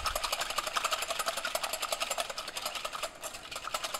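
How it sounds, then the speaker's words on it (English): A wire whisk beats chocolate zucchini bread batter in a bowl, giving a fast, steady run of close, even clicks and scrapes that continue without a break, with no talking. "I'm just going to use a wire whisk"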